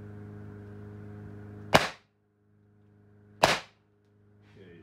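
AEA Defender 2 air rifle firing .357 rounds at 4500 psi, giving two sharp, loud cracks a couple of seconds apart over a faint steady hum.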